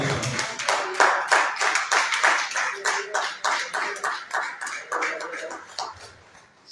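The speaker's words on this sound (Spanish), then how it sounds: "Aplausos" A church congregation claps in a brisk, even rhythm, a sustained round of applause that fades slightly at the close.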